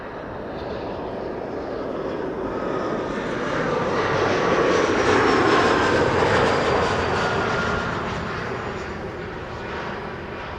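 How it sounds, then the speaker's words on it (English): A passenger airliner, flight number 175 from Bologna, arrives at Amsterdam Schiphol Airport, its engine roar rising steadily to a broad peak midway and then easing off, continuous and fairly loud with no talk. "And we have number 175 arriving from Bologna."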